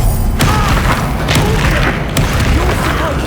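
A Confringo blasting spell explodes in the Hogwarts Legacy video game as a loud, dense rumbling boom with sharp bursts and thuds on top, and voices can be heard faintly in the mix.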